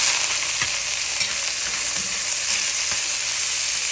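Onions frying in hot oil with mustard seeds, cumin and fennel for a goat liver dish: a loud, steady, close sizzle with small pops and crackles scattered through it, and no talking.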